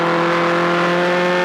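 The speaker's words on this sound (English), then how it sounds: "Accelerating around this quite hard now, and the wheels are spinning." A racing car accelerating hard around a right-hand curve with its wheels spinning, giving a loud, steady engine drone that holds throughout with no talk.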